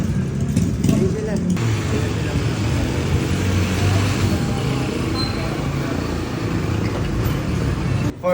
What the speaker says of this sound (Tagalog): Mga kabagang may dumating ng sasakyan